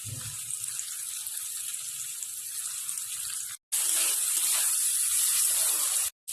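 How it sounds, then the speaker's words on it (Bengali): Water is poured into a cooking pot of freshly ground spices with turmeric and chilli powder for a rustic home-style curry: a steady, rushing splash that pauses briefly midway and then resumes, with no voices. "এইবার জল দিয়ে দিলাম।"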